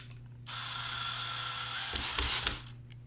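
A screw is driven into a chicken cage during assembly, giving a close, continuous mechanical whirring with a ratcheting edge that starts abruptly, holds steady for about two seconds, then ends with a few clicks and knocks.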